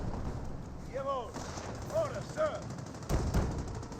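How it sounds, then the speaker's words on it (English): Bursts of .30 cal machine gun fire in a Company of Heroes battle, a few short distant volleys mixed with game effects and whistling tones, ending with a sharper cluster of shots near the close. "I think the 30 cal is hitting one of those units."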